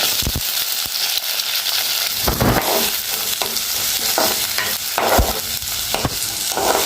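Onions and whole spices fry in a pan for a jackfruit curry, giving a loud, continuous sizzle. Sharp scraping stirs cut through it at intervals.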